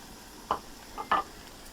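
Salted vegetables cooking down in a Ninja Foodi, a quiet low sizzle under three short scraping or stirring bursts.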